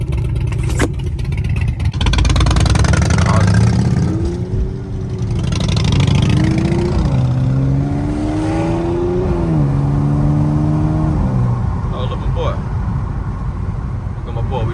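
A B8.5 Audi S5 stage 2+ engine with cracked downpipes revs up and down repeatedly with a raspy, rattling exhaust note, while a voice talks over it.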